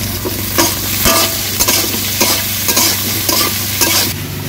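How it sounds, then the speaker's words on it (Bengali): Eggplant pieces fry with salt and turmeric in a hot pan, giving a loud, close sizzle broken by repeated scraping stirs and utensil knocks. "এখন বেগুন দিও ভেজে নিমু, ভেজে নামে নিমু। অল্প লবণ আর হলুদ দিয়ে ভেজে নিমু।"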